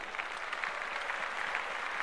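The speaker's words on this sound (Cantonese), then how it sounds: "大家俾啲掌聲嚟聽下好唔好" A crowd of people at a community evening show in Sau Mau Ping, Hong Kong, clapping steadily, a dense wash of applause that holds evenly and sounds somewhat distant.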